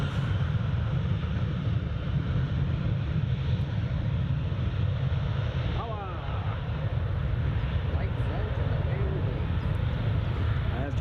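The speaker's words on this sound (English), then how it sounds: "There's Jet2 in P1 going down the runway, rolling down at 80 knots, proceeding up to V1 speed" A Jet2 airliner rolls down the runway on takeoff in a crosswind, its engine roar a distant, steady rumble heard beneath nearby conversation.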